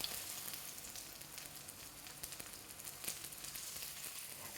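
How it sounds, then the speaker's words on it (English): Chinese lamb bubble and squeak cakes shallow frying in a pan of fat, giving a steady, fairly soft sizzle and crackle with small pops throughout, no voices. "demonstrate pan or shallow frying and cook some Chinese lamb bubble and squeak cakes"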